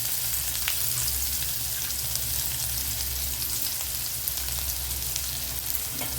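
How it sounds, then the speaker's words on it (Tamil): Finely chopped small shallot sizzles in hot oil with a pinch of asafoetida while peanut chutney is being made, a steady, close crackle running unbroken for several seconds. "ஒரே ஒரு சின்ன வெங்காயம், அதை போட்டுக்கலாம்."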